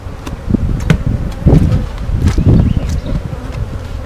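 Honeybees buzzing around an open beehive during a hive inspection, a loud close dense hum with individual bees droning past.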